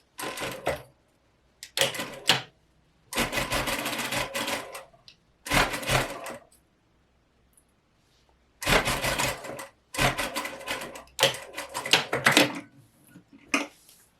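A sewing machine stitches a collar on a top in a series of short, loud bursts of rapid mechanical whirring, separated by quiet pauses, close up with no talking.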